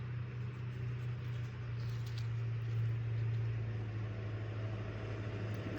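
A big truck rumbles past outdoors as a steady low drone with broadband road noise, holding fairly constant for the whole stretch, no talking.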